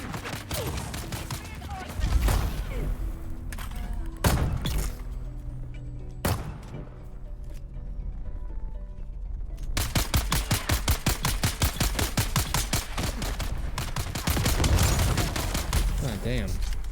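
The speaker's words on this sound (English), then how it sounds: "Those grenades are brutal." Explosions and heavy gunfire in Dune: Awakening, with several loud isolated blasts early on, then a long stretch of rapid, evenly spaced shots close by; a voice talks underneath.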